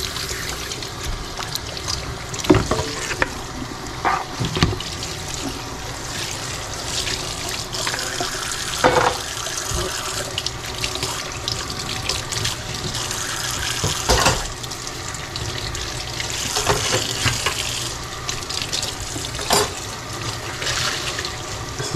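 Tap water runs steadily into a kitchen sink while dishes are washed, a continuous close splashing hiss broken by occasional clunks and knocks of dishes.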